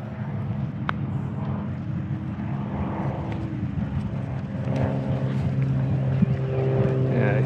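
An Eachine E250 AH-64 Apache RC helicopter's rotor whirs on after the throttle is cut, a steady close low hum with a faint whine and no voices.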